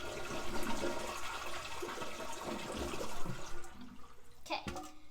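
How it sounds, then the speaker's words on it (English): A household toilet flushes during a repair, water rushing and swirling loudly and steadily for several seconds before the draining gurgle thins out near the end. "So we have to flush the toilet to get all this water out."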